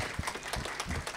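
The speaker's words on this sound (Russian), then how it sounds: "Аплодисменты." Faint, soft applause from an audience at an award ceremony as a winner is called up, a short wash of distant clapping with no clear individual claps.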